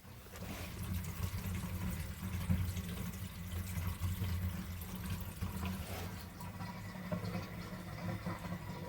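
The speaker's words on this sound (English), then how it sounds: "Now we're gonna run some water, make sure it doesn't leak." Water runs from a kitchen sink faucet during a leak test after plumbing repair in a second-story kitchen, a steady low splashing and trickling that holds at a moderate level with no talk.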